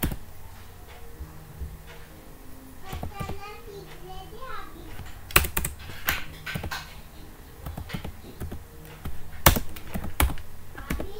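Scattered clicks of computer keyboard typing with a few sharper taps, while a voice is heard and faint background activity continues throughout.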